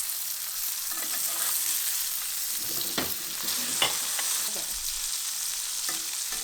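A steak sears in butter in a cast iron pan, giving a steady, loud, crackling sizzle that runs unbroken throughout, with a few sharper spits and pops and no talking.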